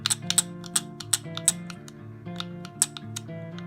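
Exgreem fidget cube clicky button pressed repeatedly, a quick series of sharp, close plastic clicks in an uneven rhythm over a faint low hum.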